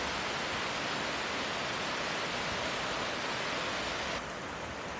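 Floodwater in Nepal's Terai, swollen by two days of nonstop rain, rushes in a dense, even hiss that stays loud and unbroken and eases only slightly near the end.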